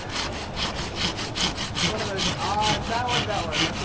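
A hand saw cuts through a tree branch during pruning, with a steady run of about ten rasping back-and-forth strokes, close and moderately loud.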